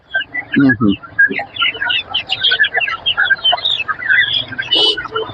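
Several chickens, including Silkie and fancy breeds, cluck and squawk in a busy, overlapping chorus at a poultry market, with people talking nearby amid general crowd noise.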